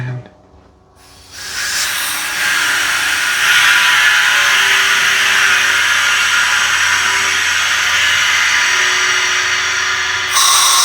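An air compressor starts up after servicing and then runs steadily, a loud continuous hissing roar that holds for about nine seconds after a brief quiet start.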